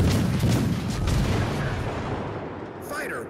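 Naval artillery fire support in World of Warships: Legends, with the Dallas: a deep, heavy boom rolls out and slowly fades into a rumbling tail, and a brief voice is heard near the end.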